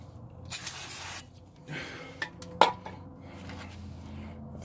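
A short hissing burst of brake cleaner spray on 2000 Lincoln Navigator brake parts, then a few light metallic clinks and taps in a quiet space, with another brief spritz.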